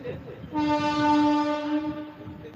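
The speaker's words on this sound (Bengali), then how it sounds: "এত রাত্রিরে কিসের ট্রেন গো?" A train horn blares in one long, steady, loud blast over the low rumble of passing rail cars.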